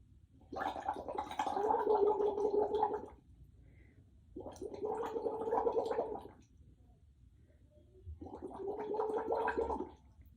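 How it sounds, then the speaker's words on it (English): Three long voiced blows through a straw, each swelling from soft to louder, separated by short pauses of quiet room noise. "I'll have you blow into the straw, and I want you to go from a low volume to a louder volume"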